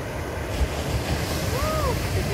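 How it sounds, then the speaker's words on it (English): Ocean waves break and wash along a Maui shore, a steady broad roar of surf with wind buffeting the microphone throughout. "I could watch these waves all day."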